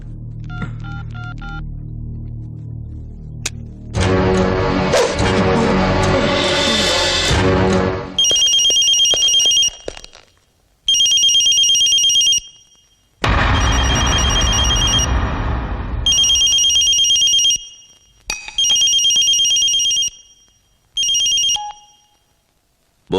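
A telephone rings after a number is dialed in a South Indian action film scene, loud electronic ring bursts repeating in a regular on-off pattern, following earlier music and dialing tones.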